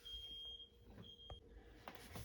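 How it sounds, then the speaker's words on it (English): A fire alarm going off indoors sounds as a faint, high electronic tone sustained in bursts, distant and quiet beneath room noise and a few soft knocks. "The fire alarm went off and I went out to see what it was"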